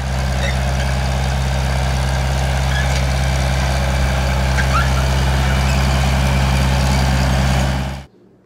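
A heavy tractor engine idles steadily with a deep, constant rumble, running loud and close for several seconds before cutting off abruptly near the end.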